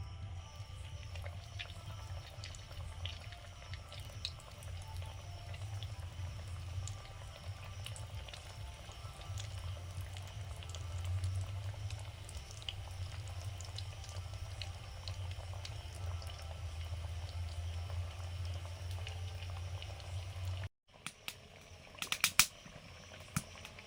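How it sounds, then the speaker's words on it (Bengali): Fish chops sizzle in hot oil in a pan, a soft, steady bubbling and crackle with a low hum underneath, continuing quietly for a long stretch before a few louder clatters at the end. "ফিশ চপগুলো ভেজে নিচ্ছি"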